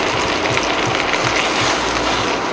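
Chicken breasts fry in a very hot pan with a steady, loud, hissing sizzle that holds even throughout, with no talking.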